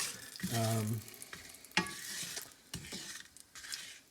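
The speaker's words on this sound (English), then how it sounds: "Now I'm going to add the chili peppers in the hot oil." Chili peppers hitting hot oil for an Indian dal, a loud sizzle flaring up at once, then steady frying crackle with stirring scrapes and utensil clinks close by.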